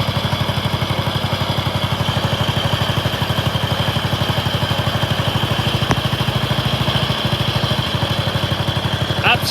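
A 6x4 ride-on racing and safety mower engine runs steadily with a fast, even putter, close and continuous with no talk.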